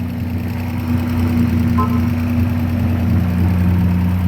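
A Hyundai Tiburon's 2.7 liter engine idles steadily after sitting unused for a while, a close, even low hum with a faint mechanical tapping running through it.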